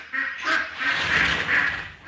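Several ducks quack close by in a steady, overlapping run of loud, raspy calls outdoors, with no talk over them.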